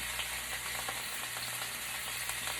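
Meat browning in a hot pan for birria gives off a steady, close sizzle and crackle with small pops, with no talking over it.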